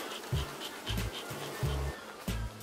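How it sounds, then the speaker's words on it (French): A colony of black honeybees gives off a steady close buzzing hum, broken by regular low thumps roughly every two-thirds of a second. "Moi je suis en abeille noire, donc c'est un choix."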